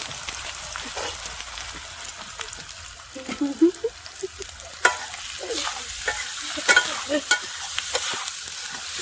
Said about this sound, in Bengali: পেঁয়াজ আর রসুনটাকে সুন্দর করে লাল লাল করে ভেজে নেবো।